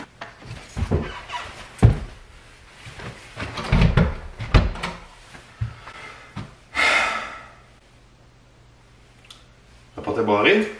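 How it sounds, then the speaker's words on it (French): A locked door handle is rattled and tried repeatedly up close, with clunks, thumps and metallic jiggling in uneven bursts, plus some breathing and movement noise around it. "La porte est barrée."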